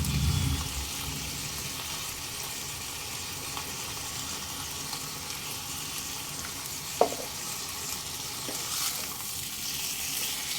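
Medium-sized chicken pieces sautéing over a medium flame for chicken haleem, a continuous close sizzle with a single sharp utensil knock partway through.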